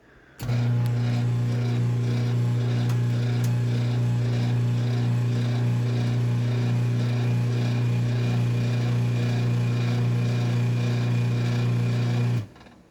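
A Chamberlain C450 garage door opener runs steadily for about twelve seconds, a loud, constant motor hum with a rattling chain-drive drone, starting and stopping abruptly with no talking.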